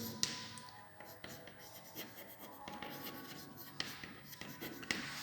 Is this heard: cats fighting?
no